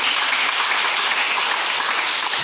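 A church congregation applauds, giving a dense, steady wash of clapping that holds at an even, fairly loud level throughout without breaks.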